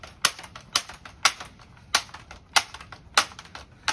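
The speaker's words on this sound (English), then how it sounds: "this pump handle, it's not comfortable to pump" A Daisy 880 air rifle's pump handle is worked steadily, giving a regular run of sharp mechanical clacks about two per second, close and fairly loud, with no talking.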